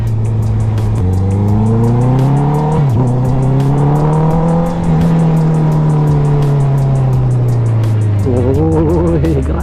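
Motorcycle engine fitted with an Akrapovic muffler, titanium sprocket and velocity stacks after ECU tuning, revving loud and close with a strong, steady exhaust drone that rises and falls through the revs, alone without talk.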